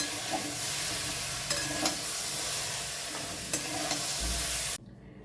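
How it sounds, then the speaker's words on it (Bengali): Mixed vegetables with peas sizzle steadily in hot oil while a spatula scrapes and stirs them around the pan, then the sound cuts off abruptly. "সবজিগুলো ভাজা হয়ে গেছে, এবার আবারও তুলে নিচ্ছি।"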